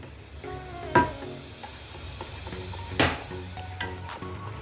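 Cheese sauce for mutton lasagne bubbles in a pan with a soft sizzle, while a spoon clanks against the metal a few times in sharp, close knocks.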